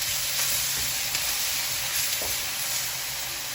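About two tablespoons of chopped garlic frying in a hot pan for pork fried rice, a loud, dense, continuous sizzle close by with faint stirring scrapes and no talking.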